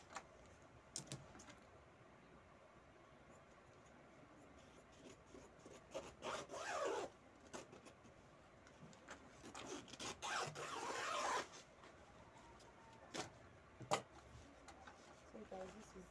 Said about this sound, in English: I'm going to cut the zipper allowance into two.